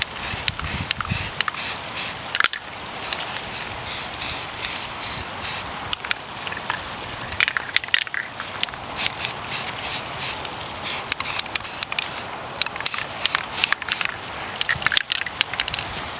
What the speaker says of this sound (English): we're just going to go ahead and put the second coat on